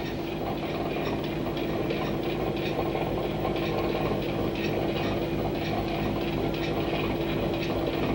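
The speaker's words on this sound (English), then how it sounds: "An ink this heavy, about the only way it can be made is on a 3-roll mill." A three-roll mill grinds heavy linseed-oil etching ink with a steady, loud mechanical churn, a continuous ratcheting, gear-like clatter that holds without pause for about eight seconds and has no talk over it.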